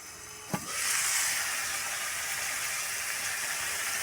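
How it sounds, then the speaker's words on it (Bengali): Cauliflower, carrot and beans fry in a nonstick kadai, giving a soft, steady sizzle and hiss that settles in just after a single light knock and continues evenly without talk. "আর এর মধ্যে কড়াইতে দিয়েছি ফুলকপি গাজর আর বিনস একসাথে ভাজতে দিয়ে দিয়েছি"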